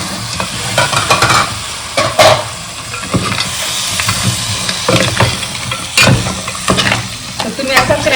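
Crab pieces tossed into a hot pan with black masala sizzle and fry while a utensil scrapes and stirs them repeatedly, the hiss steady and close with clattering strokes throughout.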